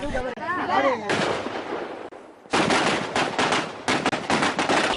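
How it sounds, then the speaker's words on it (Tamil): Firecrackers set off by plantation estate workers celebrating a wage rise. A brief voice comes first, then loud, dense strings of rapid crackling bursts in two long volleys with a short lull between them. "பட்டாசு வெடித்து தமது மகிழ்ச்சியை வெளிப்படுத்தினர்"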